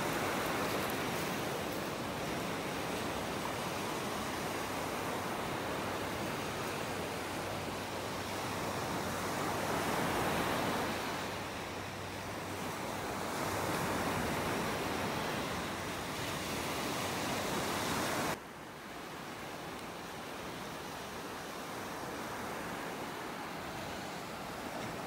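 Surf rolls onto a beach in North Naples, Florida, as a broad, continuous wash of breaking waves with some wind buffeting the microphone. It is steady for the whole stretch and then drops slightly quieter near the end.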